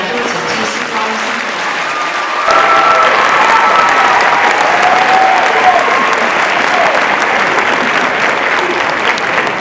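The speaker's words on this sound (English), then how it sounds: "Please join me in a round of applause for the graduates of TC College." A graduation ceremony audience gives the college graduates a sustained round of applause, dense steady clapping filling a large hall, with faint crowd voices beneath.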